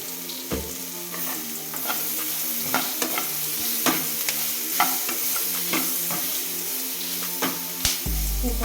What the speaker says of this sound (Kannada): ಹುಣಸೆಹಣ್ಣು ಹಾಕಿ ಸ್ವಲ್ಪ ಫ್ರೈ ಮಾಡ್ಕೊಬೇಕು.